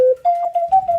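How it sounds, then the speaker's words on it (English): Ocarina playing a single sustained, pure whistle-like tone that steps to a slightly higher pitch and holds with gentle wavering, close and clear with no other sounds. "Ocarina."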